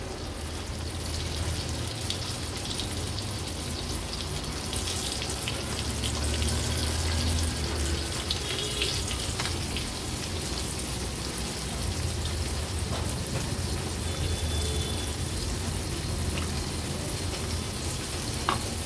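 Wakti fish pieces coated in rice flour fry in a pan over a medium flame, giving a steady, loud, dense sizzle with continuous crackle and spatter throughout, no voices.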